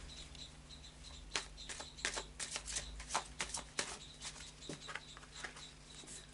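A deck of tarot cards is shuffled nearby, a run of quick riffling flutters and soft slaps that come in uneven bursts over a low steady hum, with no speech.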